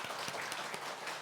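A church congregation gives a short burst of applause during a Sunday worship service, soft and somewhat distant steady clapping lasting about a second.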